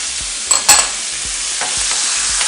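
Onions sizzle loudly in a hot pan while a spatula stirs and scrapes them, a constant frying hiss punctuated by a few sharp scraping clatters near the start, without any voices.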